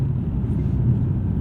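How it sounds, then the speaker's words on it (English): A 2011 Infiniti G Coupe's naturally aspirated six-cylinder engine hums with an even low rumble, brief and steady, heard close from the cabin without any voices. "Not the most sonorous or musical or emotional six-cylinder."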